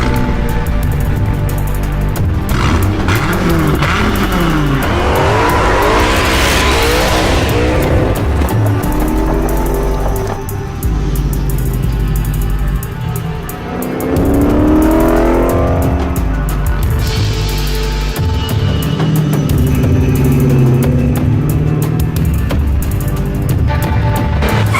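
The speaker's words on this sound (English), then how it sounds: "Dodge Viper, created like no other car in the world." A Dodge Viper sports car roars loudly and continuously, its engine revving and surging as it drives, with rising accelerations and a brief dip midway.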